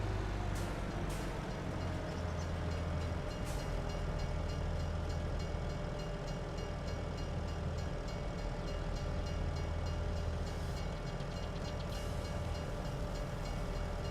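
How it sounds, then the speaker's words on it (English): Train in Farming Simulator 22 rolling past, a steady loud rumble of rail cars with faint clacks, continuous throughout with no talk. "the train's gone"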